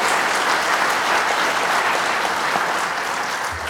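Loud, dense applause rises from a Memorial Day gathering for the East Longmeadow band, a continuous wash of many hands clapping together without a break.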